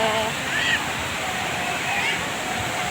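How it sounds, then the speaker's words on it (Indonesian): Steady broadband roar of the Banting Murung waterfall, heard continuously from close by, with a few faint bird-like chirps over the rushing water. "pusat air terjun ya guys"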